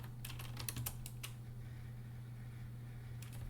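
Quick bursts of keystrokes on a computer keyboard, a short flurry followed by a pause and a few more taps, close and crisp over a steady low fan hum.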